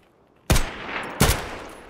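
Two loud, sharp sniper shots in the video game Escape from Tarkov, close and echoing, spaced under a second apart, each followed by a rolling tail.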